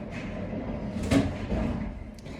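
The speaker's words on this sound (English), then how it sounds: "He's just really wanting to open and close that door today." A kitchen door being opened and closed during home cooking: a soft creak, then a sharp thump in the middle of a quiet room, with low background hum.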